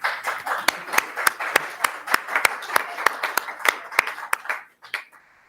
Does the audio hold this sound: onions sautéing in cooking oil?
no